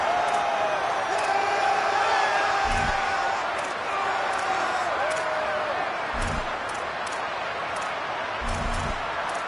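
A stadium crowd roars steadily at a college football video game, TCU at Baylor, behind a commentator talking over it, with a few low thumps now and then.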